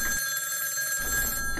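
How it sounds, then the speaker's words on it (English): A telephone rings with a steady electronic bell tone that holds for most of the moment at moderate loudness; no voices. "All Frank could feel were the vibrations of the ringing telephone penetrating through the roof."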